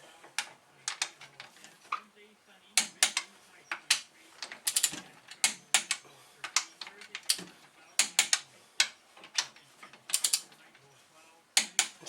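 A ratchet wrench tightens oiled bolts on a Rhino 660 engine top end during a rebuild, with repeated bursts of close, crisp clicking pawl strokes separated by short pauses and faint low talk in places.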